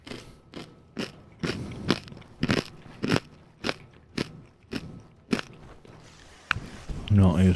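Crunchy chewing on a nut, with a series of sharp, evenly spaced bites and cracks close to the mic, followed by rustling and a low murmur at the end.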